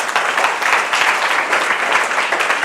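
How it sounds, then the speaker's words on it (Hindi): Loud, dense applause fills a youth prayer meeting, a steady wash of clapping hands that holds evenly for the whole stretch with no pause. "तालियां बजा दो जोरदार।"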